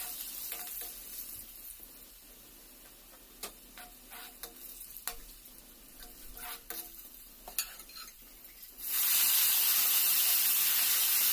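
Crushed garlic and ginger with turmeric fry in oil for an Assamese meal, soft sizzling with scattered ticks and stirring taps, then a sudden loud burst of hissing near the end.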